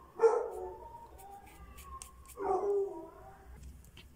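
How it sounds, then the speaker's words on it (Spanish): Dogs yelping and whining excitedly in two short bursts, at moderate distance and fairly quiet, with small sounds in between. "Y los perros, como siempre, se ponen locochones."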